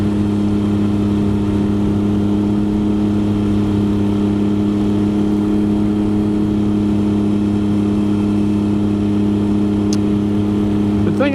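A motorcycle fitted with a loud Two Brothers aftermarket exhaust drones at a steady cruise on a mountain road near Bryson City, North Carolina, a constant close, loud engine hum with little change in pitch throughout.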